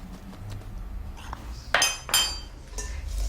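A spoon clinks against a bowl while flour is mixed into chocolate pot batter, with a few sharp, bright knocks over a soft background and speech between them.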